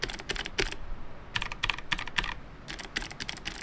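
Typing on an NMB keyboard fitted with black clicky Space Invader switches: quick bursts of sharp, high, rattly keystrokes in short clusters with brief pauses, close and fairly quiet, no voices.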